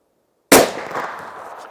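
A single sharp rifle shot from a Sauer 505 Ergolux at an outdoor range, with a sudden loud crack after silence and a rumbling echo that fades over about a second.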